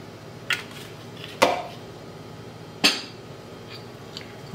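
A spoon clinks against a bowl of seasoned lentil salad while mixing, three bright separate knocks over a quiet kitchen background.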